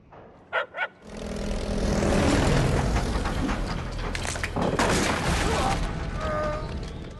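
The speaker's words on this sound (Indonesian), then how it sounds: "Pesawat Jerman yang tadi terbang rendah ternyata mendarat" A German propeller plane roars low and close, its loud droning engine swelling and holding steady after two short thumps at the start.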